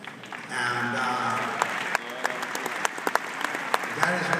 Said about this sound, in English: that is what's known as a smattering of applause.